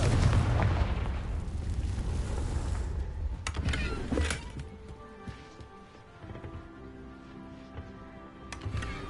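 A Confringo blasting spell in the Hogwarts Legacy video game gives a loud burst with a fiery rumble. A second sharp crack follows about four seconds in, then a ringing, humming tail with a faint impact near the end.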